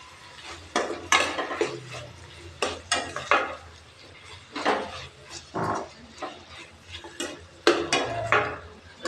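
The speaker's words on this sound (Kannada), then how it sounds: "ಈಗ ಚೆನ್ನಾಗಿ ಮಿಕ್ಸ್ ಮಾಡೋಣ" A spoon scrapes and clanks steadily around a pan while avarekalu usli is stirred and mixed, a dense run of close scraping strokes with metallic knocks and a faint sizzle underneath.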